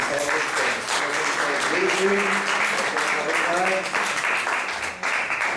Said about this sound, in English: Let's give a round of applause for this wonderful Prabhupada.